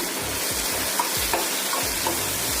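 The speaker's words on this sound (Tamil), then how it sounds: "கோகோனட்ஸ் ஆட் பண்ணி ஒரு 1 minute இப்படி மிக்ஸ் பண்ணி" Coconut is mixed into tomato and onion chutney frying in a pan, with a dense, loud, continuous sizzle and regular low stirring scrapes underneath, heard close-up and alone.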